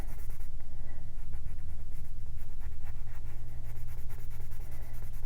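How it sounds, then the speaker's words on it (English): A watercolor pencil is used dry to color on paper, giving a steady, close, continuous scratching of the lead across the sheet, with rapid back-and-forth strokes and no talking. "So, coloring the mouse with the gray."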